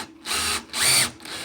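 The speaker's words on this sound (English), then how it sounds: "I'm just gonna drill a hole" A power drill bores a hole while a kitchen sink is being installed, sounding as two short whirring bursts close by, the second rising in pitch, with no talk.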